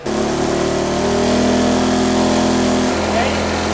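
A small engine fitted with a transparent carburetor runs without choke, a loud steady buzzing drone that drops in pitch near the end as it is throttled back.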